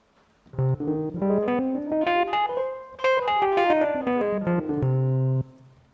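Synth notes from a Roli Lightpad Block MIDI controller in scale mode run up a scale and then back down, evenly spaced and clear, ending on a held low note; no one speaks.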